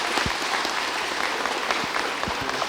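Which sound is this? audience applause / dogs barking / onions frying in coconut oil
audience applause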